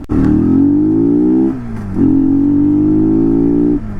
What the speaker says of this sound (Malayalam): ചെയിൻ ലൂബ് ചെയ്യാത്തതുകൊണ്ട് ഗിയർ ഷിഫ്റ്റിംഗ് ഒക്കെ ഭയങ്കര നോയ്സിയാണ്.